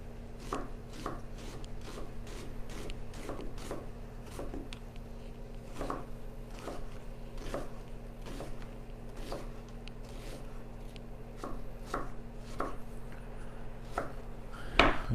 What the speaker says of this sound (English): we're cutting up our purple onion